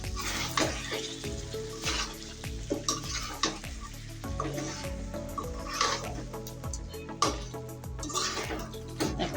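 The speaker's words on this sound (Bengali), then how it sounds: "দেখি চিকেনটা কষানো হচ্ছে।" Chicken being sautéed in a pan: a steady sizzle and fry with repeated stirring scrapes and clinks, close and moderately loud, with faint background sounds.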